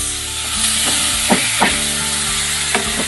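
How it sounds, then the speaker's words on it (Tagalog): Pork and tomatoes sauté in a pan with a close, steady sizzle, punctuated by several sharp scrapes and stirs of a utensil. "Ginigisa ko lang yung pork, tapos lalagyan na natin siya ng"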